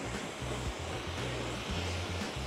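A pressure washer jet run from a FOSSiBOT F3600 Pro portable power station sprays water onto a car, a steady loud hiss with a pulsing pump drone underneath, continuous throughout.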